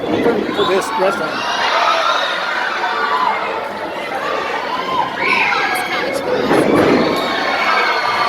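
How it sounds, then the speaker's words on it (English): Crowd at a wrestling event cheering and shouting in a continuous, busy roar of chatter and yells, with voices talking throughout. "It's a good crowd"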